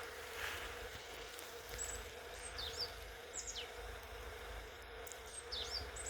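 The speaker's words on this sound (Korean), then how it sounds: "꿀벌들이 날아다니는 소리가 그냥 웅 하고 우는 것 같아요" Honeybees buzzing around blooming plum blossoms in a spring orchard field, a soft continuous hum of many insects close by, with faint bird chirps scattered above.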